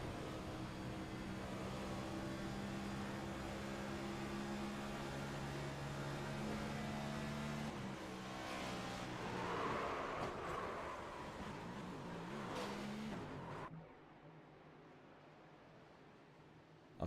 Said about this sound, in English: I want to have a listen with the 91 of Shoop. And listen to the moment that he realizes the car breaks loose.